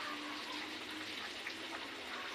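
A cup of water poured into a flour mixture seasoned with salt and pepper, a steady close splashing stream that runs continuously and then stops abruptly.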